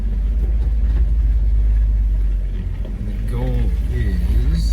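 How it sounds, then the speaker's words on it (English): A Jeep engine crawling off-road in four-low first gear on Hackett Gulch Trail in Colorado, a steady close low rumble that dips briefly midway, while someone talks over it. "So I'm in 4 low in first gear."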